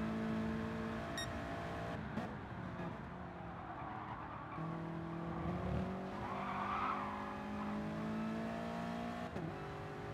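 Race cars in Gran Turismo Sport roar around the track in an FIA manufacturer practice session, engines droning and shifting pitch as they chase a Lamborghini, with tire squeal and skidding flaring midway, steady and moderately loud.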